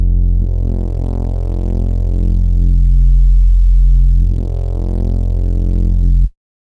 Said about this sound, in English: I've got a noise oscillator coming out of operator and a sub, just a sine.